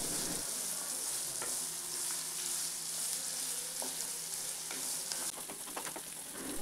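Cashews and poppy seeds frying in a pan for a vegetable curry, a loud continuous sizzle with a few scrapes of a stirring spoon, close and steady, no talking.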